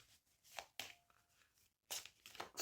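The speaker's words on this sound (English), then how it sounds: "let me shuffle your cards" Tarot cards being shuffled in a quiet room: a few soft, crisp bursts of riffling and sliding card stock, close and faint, separated by near silence.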